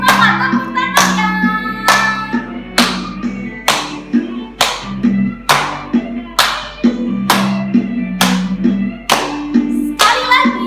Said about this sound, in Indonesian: Ayo musik, yuk semua semangat tepuk tangannya.